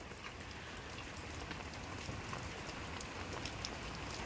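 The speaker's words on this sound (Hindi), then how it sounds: "अभी लगता है कि बारिश और तेज होगी।" Constant rainfall patters down in a thick, unbroken wash of drops, moderately loud and steady from start to finish, with nothing else standing out.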